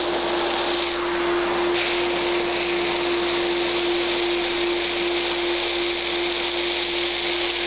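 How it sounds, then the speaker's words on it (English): Ruwac Attic Vac insulation removal vacuum pulling vermiculite through a 3-inch hose, a steady, even whooshing hum with a constant tonal drone, continuous throughout without speech. "As you'll see, this is an extremely quiet vacuum."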